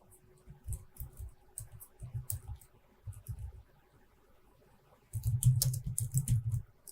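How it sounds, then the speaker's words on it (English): Someone types on a computer keyboard while building an Excel spreadsheet: short bursts of close, crisp key clicks separated by pauses, ending in a longer, louder flurry of rapid keystrokes. "I'm going to type in here."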